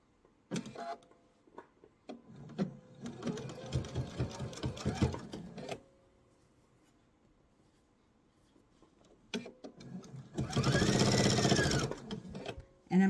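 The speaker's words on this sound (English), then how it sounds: "I'm going to sew until I get down to that next corner" A sewing machine stitches a laptop sleeve in several bursts, some short, one long run and a loud fast stretch near the end, with quiet handling pauses between.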